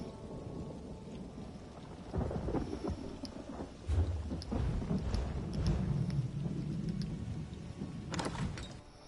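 Rain and thunder in the Elder Scrolls Online video game: steady rainfall patters throughout while low thunder rumbles roll in repeatedly, swelling and fading, fairly close and full, with no talking.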